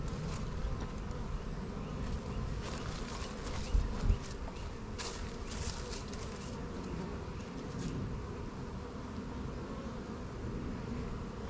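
A dense swarm of bees buzzes continuously in a hive box during a hive split, a constant droning hum broken only by a couple of soft knocks partway through.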